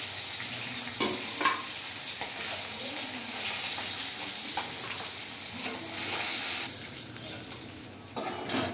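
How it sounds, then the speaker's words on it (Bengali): Rup chanda (pomfret) fish frying in hot oil, a steady close sizzle with faint stirring or handling sounds, easing near the end. "মাছগুলো ভাজা হয়ে গেছে, আমি এক এক করে নামিয়ে ফেলবো।"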